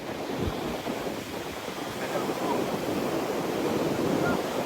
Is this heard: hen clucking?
no